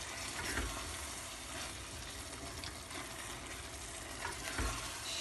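Garlic for a spicy roasted red pepper dish frying and being stirred in a pan without water, a steady close sizzle with occasional scraping stirs and no talking.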